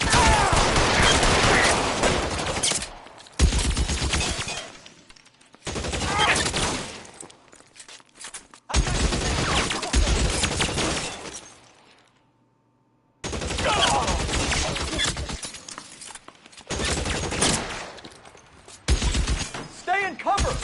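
Gunfire in an LA Noire police shootout, long loud bursts of rapid shots in several spells separated by short pauses, with voices talking over parts of it.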